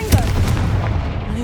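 Confringo spell blast in Hogwarts Legacy, a short booming explosion impact with a sharp onset and low rumble, heard close and loud.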